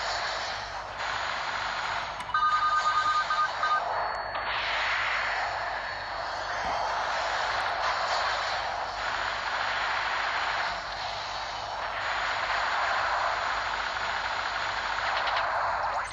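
A fighter jet in its plane form flying in the Macross Delta Scramble video game, a steady loud roaring engine whoosh sustained throughout with shifting intensity and brief electronic game tones.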